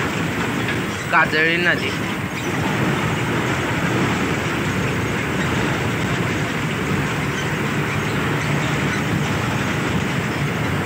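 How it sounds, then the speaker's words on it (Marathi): The Ratnagiri-Hubli train rolls past near a river along a road, a steady loud rumble filling the whole stretch, with a brief spoken remark near the start. "रत्नागिरी हुबळी गाडी गेली."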